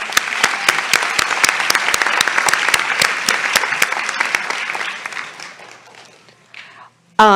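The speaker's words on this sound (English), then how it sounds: "let's give them a round of applause" At a university commencement ceremony, an audience breaks into loud, sustained applause with a few sharp claps standing out near the front, then it thins and fades out before a voice starts at the end.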